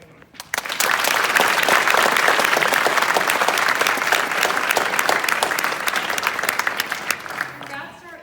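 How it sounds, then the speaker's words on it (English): An audience at a 2020 Heritage High School National Honor Society ceremony gives a full round of applause for eight honored seniors, starting abruptly and continuing as steady, dense clapping before tapering. "Could we please give a round of applause for everyone?"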